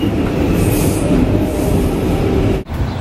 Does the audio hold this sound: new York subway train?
yes